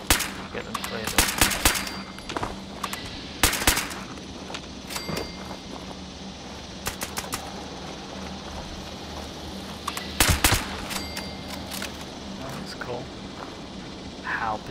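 Gunfire without explosive rounds in the video game Fallout: several bursts of rapid automatic shots at moderate loudness, separated by quieter stretches of ambient game noise.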